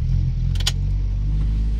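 A 2016 Toyota Avanza with a dual VVT-i engine and a throttle body stuck open idles steadily at close range, a low continuous rumble with a brief higher rattle midway, and no voices.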